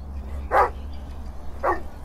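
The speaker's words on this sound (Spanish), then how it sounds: "Ladra, perro." A dog barks twice inside a played music track, two short, spaced barks over a steady low bass hum.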